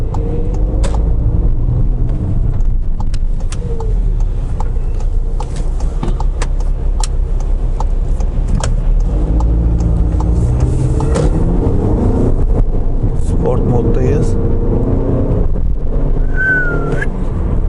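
Skoda Superb 2.0 TDI 190 PS with DSG gearbox accelerating hard from inside the cabin, a loud steady engine drone rising through the gears with brief tire squeals as the traction control struggles against wheelspin.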